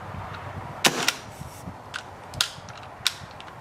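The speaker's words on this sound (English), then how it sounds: "I was thinking maybe I can charge the pistol on the inside by doing a half pull" An airsoft pistol's trigger is half-pulled to charge its internal mechanism, giving a series of small, sharp mechanical clicks spread irregularly over a few seconds, close to the listener, with no voices.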